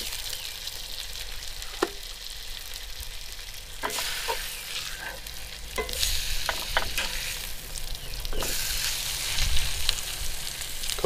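Pork sizzles steadily in an oiled pan cooked outdoors at a campsite, with a continuous frying hiss and several brief clinks and scrapes from stirring and handling, no voices.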